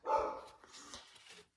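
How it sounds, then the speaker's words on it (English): A small dog in a store parking lot gives one short, close bark that trails into a softer yip or whine. "Even when your dog is barking"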